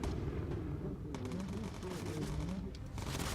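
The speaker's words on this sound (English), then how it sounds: "Let's let our gunners take care of those guys." Rapid bursts of gunfire from bomber gunners in Bomber Crew fighting off incoming fighters, dense and continuous over a steady engine drone, with clusters of sharp shots.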